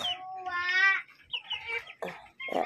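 Garden chickens cluck and squawk close by in a short burst of loud, rising calls, followed by a few softer clucks and some human speech mixed in.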